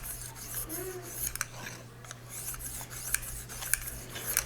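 Rhythmic scraping strokes of a knife blade rubbing across a Lansky sharpening stone, base to tip, repeated back and forth at close range with a faint background hum.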